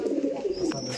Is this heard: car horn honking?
no